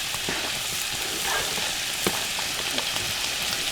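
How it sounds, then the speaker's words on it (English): A grits casserole mixture stirred in a pot, giving a steady sizzling, frying-like hiss with soft scraping strokes near the end, moderately loud and close, with no speech over it. "We're going to give this another little stir, just like so."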